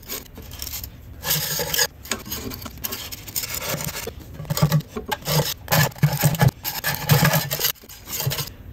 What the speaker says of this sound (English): I'm going to scrape a bunch of this off with a simple putty knife.